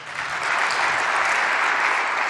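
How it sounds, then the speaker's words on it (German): Steady, dense applause from a conference audience as a talk begins, even and full throughout with no voices over it. "Einen herzlichen Applaus."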